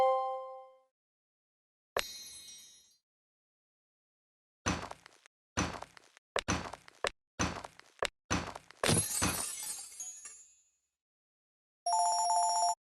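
A phone rings in the Piper's Pet Cafe video game, with a steady electronic tone for about a second near the end, after a series of sharp clicks, chimes and clattering game effects.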